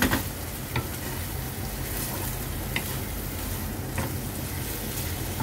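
White bitter melon with egg frying in a pan: a steady, loud sizzle throughout with a few soft scrapes as it is slowly stirred.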